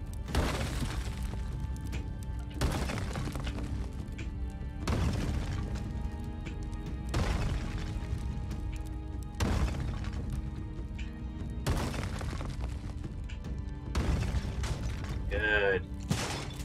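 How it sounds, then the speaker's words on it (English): A shotgun fires repeatedly in the video game Spelunky 2, with sharp booming blasts about every two seconds over game music and sounds. "Shotgun."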